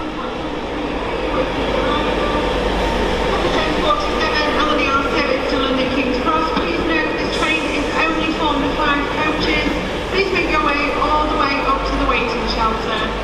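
A Class 91 electric locomotive hauling an Intercity 225 set through Doncaster on the East Coast Main Line rolls past with a steady rumbling roar, faint wheel squeal and rail clatter, and speech can be heard over the train.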